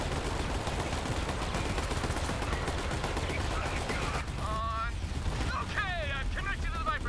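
Turret gunfire in the video game Borderlands 3: a dense, sustained stream of rapid shots and blasts filling the mix, with voices briefly speaking over the racket near the end.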